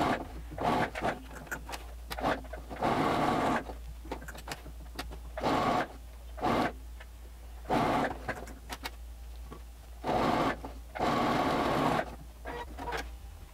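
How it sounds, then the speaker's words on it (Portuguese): A sewing machine stitches the lining of a mermaid dress in repeated bursts of a few seconds each, steady and close, with quiet pauses between runs. "agora eu posso costurar a minha cava, o decote, o centro e desço"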